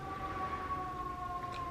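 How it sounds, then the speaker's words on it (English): Emergency vehicle siren in the city, a faint, steady wailing tone at a distance over low urban background rumble, with no talk. "while I was waiting for the siren to go away"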